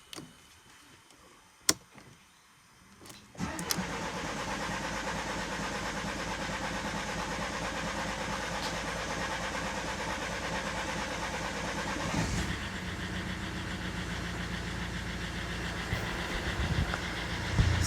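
2013 Mercedes-Benz W204 C250 CDI diesel cranks after a fuel injector change, catches with a burst, then settles into a steady, loud idle clatter that shifts slightly in tone partway through, no talking.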